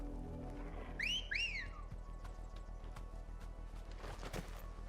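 A character in Final Fantasy XVI gives two quick rising-and-falling whistles in close succession, clear over a low ambient hum, followed by soft hoof-like clopping.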